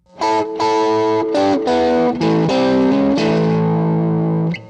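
Distorted electric guitar plays a bluesy double-stop lick harmonized in fourths, a run of sustained picked note pairs in uneven phrasing with a final held pair, loud and close with effects coloring the tone.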